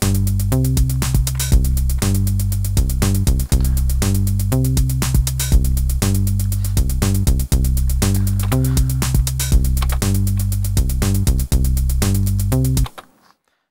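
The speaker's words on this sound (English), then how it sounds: "I'm going to drop in, using this, on 16th notes, a little closed hi-hat run" Programmed drum pattern in Cubase SX3 with a closed hi-hat run on 16th notes ticking evenly over punchy kick and snare hits, loud and mechanically steady until it stops abruptly.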